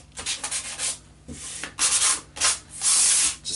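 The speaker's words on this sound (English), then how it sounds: "wipe over those, sand over those spots" Sandpaper of 220 grit rubs over a kitchen cabinet surface in short, close strokes, a dry scratchy swish repeated in uneven passes with brief pauses between them.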